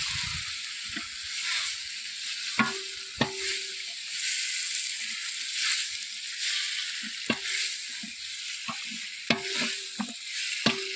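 Tomatoes sauté in a pan over a wood-fire stove on a canal bank, giving a steady soft sizzle. Occasional sharp taps of a spoon or ladle against the pan punctuate it, with no one talking.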